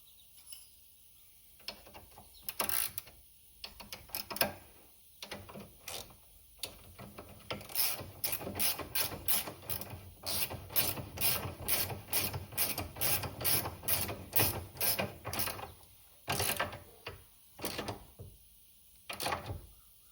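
A 15 mm ratchet works bolts on the rear wheel of a 2024 CFMOTO ZFORCE 950, its pawl clicking in quick bursts of rapid ticks separated by short pauses, close and clear with no talk.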